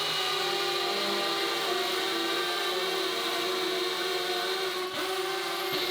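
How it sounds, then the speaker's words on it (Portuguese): A cordless drill from a Parkside, Einhell and Bosch comparison boring a hole, giving a continuous loud whine with a steady motor tone that holds for several seconds and dips briefly near the end. "vou continuar a furar agora sem olhar às rotações"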